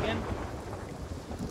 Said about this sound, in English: Did you just get struck by lightning?